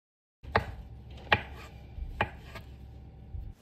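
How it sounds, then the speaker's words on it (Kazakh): A knife chops mushrooms for a quick mushroom salad, four crisp strikes against a cutting board in an uneven rhythm, close and fairly quiet, with no talking. "Міне турап алдық."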